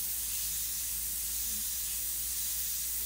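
A continuous airy hiss of an airbrush spraying paint runs steadily throughout, bright and even, with a low hum underneath and no talking.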